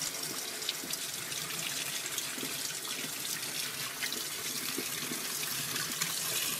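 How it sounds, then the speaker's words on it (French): A kitchen tap runs steadily while a vinegar-soaked egg is rinsed under it. The water makes a continuous close hiss and splash with small shifts as the egg moves through the stream, and no one talks. "Donc en fait vous passez sous l'eau"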